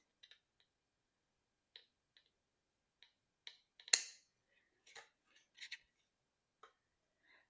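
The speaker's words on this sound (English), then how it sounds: "So I'm going to cut about 1/8 of an inch off each of these." Small scissors snip false eyelash strips in a quiet room, a scattered series of faint, sharp clicks and cuts with one louder snip in the middle and no talking.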